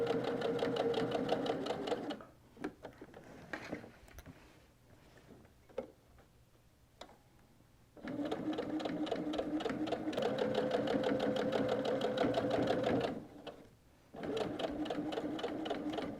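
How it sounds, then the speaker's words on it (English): Sewing machine stitching through a canvas tote with fused appliqué, running in two long steady bursts of rapid, even stitching, near and clear, separated by a pause with clicks and handling noises while the fabric is turned. "As I get down to corners, I'm just going to sew right through them and then turn."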